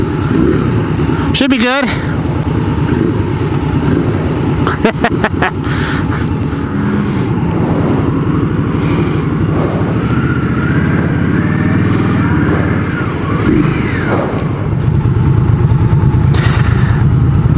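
A 1987 Honda Rebel 250 motorcycle runs and revs up close, its engine roar steady through the stretch with a few sharp clicks and bumps from handling, while people talk over it.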